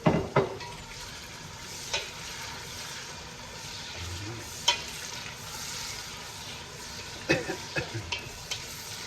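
Garlic and onions sizzling in a pan as they are sautéed for Filipino-style spaghetti, with low steady frying hiss and scattered scraping clicks of a utensil stirring, a few sharper knocks standing out.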